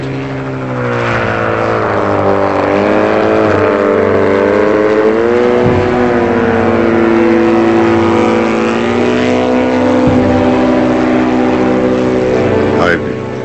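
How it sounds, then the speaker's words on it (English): A loud, steady autogyro engine drone with a throbbing rotor hum holds close and constant, its pitch rising and falling slightly as it runs. "Though it looks like a helicopter, it's actually called an autogyro and flies like an airplane."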